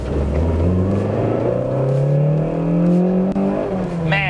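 A car engine revs and accelerates steadily, its pitch climbing smoothly under load, loud and close, with a brief sharp click near the end.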